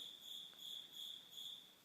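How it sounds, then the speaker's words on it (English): Crickets chirp in a steady, evenly pulsing high trill, four rhythmic bursts repeating over a faint quiet background, alone with no voices. "Oh, I know, crickets."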